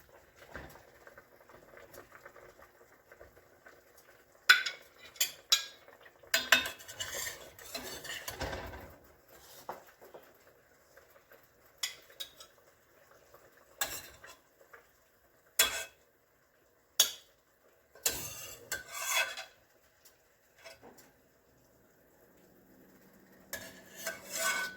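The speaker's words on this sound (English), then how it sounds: "I'm going to dip it up out of the pot and put it on this plate here and let it cool some." Cooked chicken for homemade chicken and dumplings is lifted from a pot onto a plate, with scattered close clinks and scrapes of utensil against pot and dish separated by quiet gaps.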